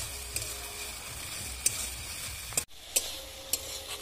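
Greens and vegetables for an alu shak dish cook uncovered in a pan, giving a continuous soft sizzle with scattered clicks of stirring and a brief lid or utensil knock, close and steady, with no voices.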